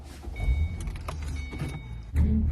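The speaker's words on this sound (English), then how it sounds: "start my car, and then I put it in reverse" A car starting up and backing out of a driveway, heard as engine and mechanical rumble with clicks and shifting noises, rising at the start and swelling again near the end, close and moderately loud with no talk.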